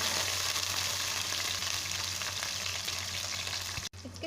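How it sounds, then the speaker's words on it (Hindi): Half a bowl of corn kernels fries in a pan, giving a loud, even, continuous sizzle that cuts off abruptly near the end. "इसी के साथ हम आधी कटोरी कॉर्न भी फ्राई"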